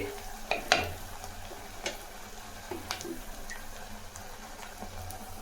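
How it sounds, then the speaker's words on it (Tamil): Onions for a village-style fish curry sauté quietly in a pan, a soft low sizzle broken by a few scattered stirring clinks and scrapes, fairly faint and close. "இந்த வெங்காயம்லாம் வதங்கும் போதே பாருங்கள்"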